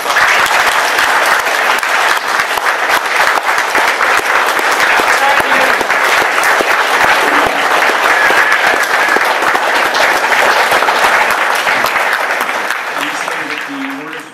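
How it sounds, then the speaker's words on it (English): Sustained audience applause at a law and human rights talk, loud and dense throughout, steady clapping from a large crowd that tapers slightly at the end. "So we have a big round of applause."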